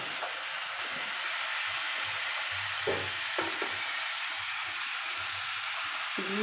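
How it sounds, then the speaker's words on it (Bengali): Bottle gourd is stir-fried in a pan with shrimp and spices: a constant hissing sizzle with a few scraping stirring strokes and soft clatters, heard up close. "দিয়ে এরপরে ভালো করে নেড়ে চেড়ে নেব। লাউটাকে মশলা আর চিংড়ির সাথে ভালো করে মিশিয়ে নেব।"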